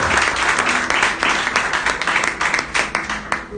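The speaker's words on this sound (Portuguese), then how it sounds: "Pode aplaudir ao Senhor" A church congregation claps praise to the Lord during a sermon, with close, loud, uneven hand claps that pulse rhythmically throughout.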